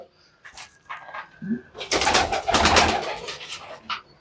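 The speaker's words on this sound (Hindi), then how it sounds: "ज़बरदस्त यहाँ पर कबूतर देखें आप" Pigeons cooing in a fancier's loft in Tonk, soft murmuring coos that build into a louder, fluttering burst of activity in the middle, with brief quieter calls before and after and no talk.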